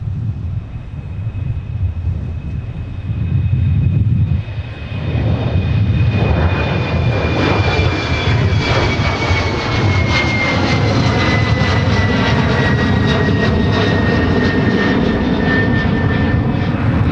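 A Boeing 737 jet takes off at Minneapolis–St. Paul airport, a loud, building engine roar with a rising whine that swells around the midpoint and then holds strong and sustained as the aircraft climbs away.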